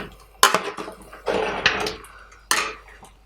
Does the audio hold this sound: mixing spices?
yes